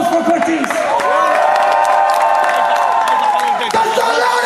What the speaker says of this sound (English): Can we all just have a round of applause for Curtis?